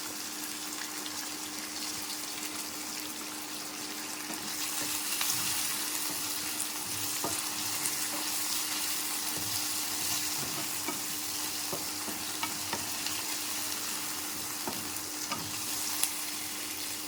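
Curry leaves and onions frying in hot oil for gongura pappu, a steady close sizzle with occasional stirring scrapes and spatters that grows a little louder partway through, with no talking.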